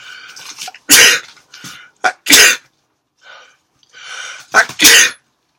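Several sharp, loud sneezes burst out in a quick series, separated by short breathy gasps and quiet pauses, close to the microphone.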